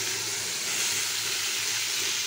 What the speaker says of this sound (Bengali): এবারে আমি আলু ভাজবো